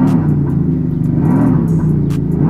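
Simulated combustion-engine note from a Maxhaust sound generator fitted to an electric Jaguar I-PACE EV400, a steady loud rumbling drone with rising and falling pitch as the accelerator is pressed, heard alone and close.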